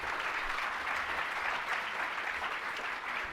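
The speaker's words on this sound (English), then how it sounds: "First of all, a big round of applause, please, for Phyllis." A conference audience at a talk on psychosocial care gives a round of applause, a steady wash of moderately quiet clapping that continues evenly without talk.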